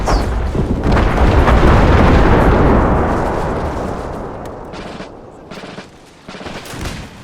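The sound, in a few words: hand grenade explosions and gunfire in video game Empire Total War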